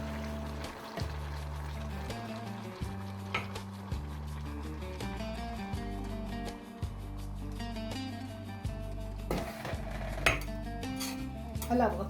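A lid goes onto a pot of okra stew with tomato and meat on a kitchen stove: a few faint metallic clinks and taps of cookware ring over a steady low hum of music in the background.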